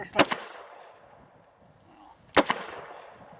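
Two sharp gunshots from a Zastava M57 pistol, a 9-shot handgun, fired about two seconds apart, loud and close, each followed by a short decaying echo.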